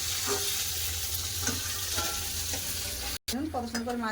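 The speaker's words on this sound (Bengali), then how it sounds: "বাকি মাছগুলো ভেজে নেবো" Small chela fish fry in hot oil with a steady, close crackling sizzle. The sizzle cuts out for a moment and a short tonal sound follows near the end.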